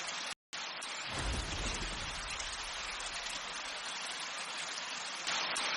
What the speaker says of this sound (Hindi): बारिश इतनी तेज हुई